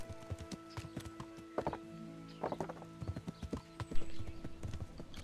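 A horse in Kingdom Come: Deliverance clip-clops steadily on hard ground, its hoof strikes close and rhythmic over a low steady hum, with a faint whinny-like tone briefly rising.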